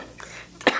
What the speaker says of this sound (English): No, don't start coughing.